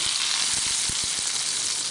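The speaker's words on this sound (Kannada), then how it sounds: "ಒಗ್ಗರಣೆನ ಸಾಂಬಾರ್ಗೆ ಹಾಕಿ" Hot tempering hits cucumber mango sambar with a bright, hissing sizzle that holds steady for a couple of seconds, dotted with small popping crackles underneath.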